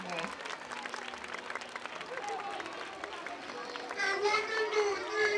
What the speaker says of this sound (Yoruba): Okay, a round of applause for Alhaji Olaniyi Sanyeri.